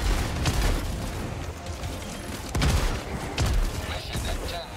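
Grenades explode in the video game Helldivers 2: repeated deep booms and sharp blasts mixed with rattling gunfire form a loud, chaotic battle din.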